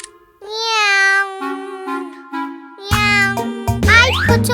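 Cartoon cat from the Pocoyo series giving several drawn-out, tonal meows one after another, loud and close, with musical notes and other cartoon sounds joining toward the end.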